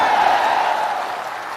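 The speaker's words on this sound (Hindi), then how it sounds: "अब बजाइए ताली" A large crowd claps together at an outdoor Jan Suraaj padyatra political rally in Bihar, a dense, loud, continuous wash of applause that fades slightly toward the end.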